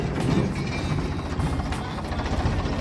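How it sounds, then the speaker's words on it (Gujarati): A new toy drone flies under remote control outdoors near a road. Its steady, buzzing whir drones on continuously at moderate volume. "આપણે રિમોટ પણ ચાલુ કરી અને ઉડાડી તમને દેખાડીએ"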